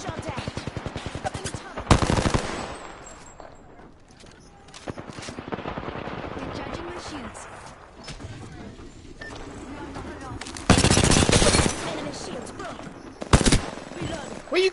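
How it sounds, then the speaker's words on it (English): Gunfire in the shooter game Apex Legends: rapid automatic bursts crackle loudly at several points, with quieter distant shots between them and a voice talking over parts of the action. "I'm getting shot at"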